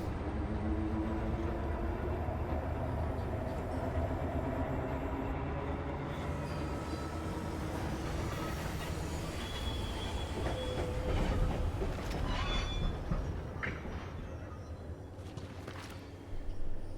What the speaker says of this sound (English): Stabilize yourself during the train ride.